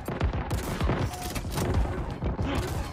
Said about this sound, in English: All I can hear is just all these skewers just going off.